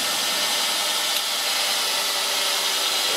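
An Arduino-controlled CNC lathe starts up with a steady broadband whir and hiss. The sound holds constant for the whole span, close and fairly loud, with no voices.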